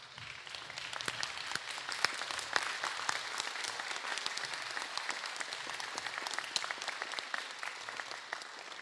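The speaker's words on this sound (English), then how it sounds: "give them a round of applause" Sustained applause from a large audience at a secondary school awards and graduation ceremony, steady dense clapping throughout with no voices rising above it.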